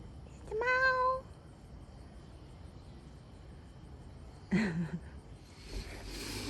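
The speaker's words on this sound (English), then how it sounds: "Kitty." A cat gives one clear, drawn-out meow nearby, followed by quiet background hum and a brief muffled sound later.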